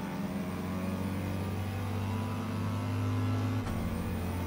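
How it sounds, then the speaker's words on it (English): A race car engine in Gran Turismo 7 revs hard and holds high rpm, a loud, steady sustained drone with a brief dip near the end. "Revving the nuts off this to try and keep everything spooled up."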